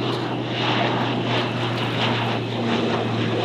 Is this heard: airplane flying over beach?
yes